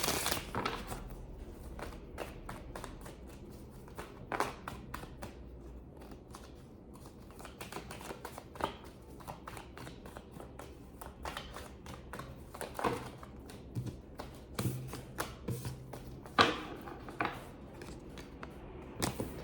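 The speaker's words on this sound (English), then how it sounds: "I'm going to go ahead and shuffle the cards out." Tarot cards being shuffled by hand, a close series of crisp riffles and sharp snapping flicks spaced irregularly over quiet background, with no talking.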